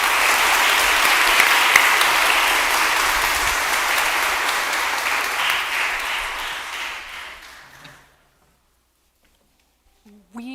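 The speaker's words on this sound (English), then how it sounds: "Please give them all another round of applause." An audience at a Clarkson College nursing hooding ceremony claps steadily for the graduates, dense applause filling the room for about eight seconds before fading to silence.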